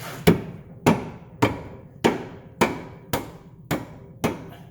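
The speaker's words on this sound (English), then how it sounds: "Let's tap the bolt." A hammer taps a bolt eight times during lower control arm replacement on a 2013 Fiat 500 Turbo, in a steady, even rhythm, each tap ringing briefly before the next, close and fairly loud.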